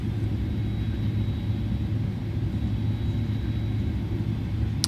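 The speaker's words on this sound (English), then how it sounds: "So bear with me as I taxi to the runway" An Airbus A310 taxiing to the runway in a flight simulator game, a steady low engine rumble and whine that stays constant and fairly loud throughout, with no talking.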